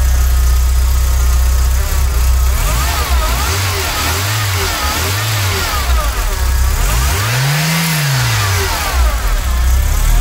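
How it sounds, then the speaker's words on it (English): A Volkswagen Mk2 GTI engine idles loudly, then revs up and down in several quick bursts followed by one longer rev; no voices. "So this is the engine working."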